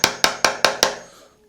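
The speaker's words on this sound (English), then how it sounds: "Just going to grab a wooden block and a hammer so we can" A hammer strikes a wooden block five times in a quick, even rhythm to drive a KTM 250 SX swingarm into place during a dirt bike rebuild, each sharp knock close and loud before a fading ring.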